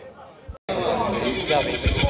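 At a horse fair in Caruaru, a horse gives a loud, quavering whinny up close, while crowd chatter and voices run underneath.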